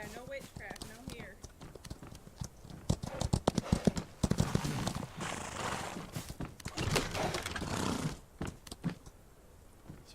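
Rhythmic horse hooves clip-clop in an Old West outlaw video game, with a second horse in the team, running steadily under frequent overlapping talk from several players.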